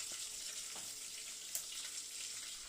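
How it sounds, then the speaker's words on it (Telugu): Tempering spices sizzling in hot oil for drumstick sambar, a faint, even hiss with a few tiny crackles, heard close and without voices. "నేనైతే పోపు అయితే వేస్తున్నాను ఫ్రెండ్స్"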